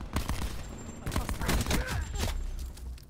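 Rapid bursts of gunfire from a Titan gun in Black Ops 4, loud overlapping shots and impacts with a player's voice talking over part of it.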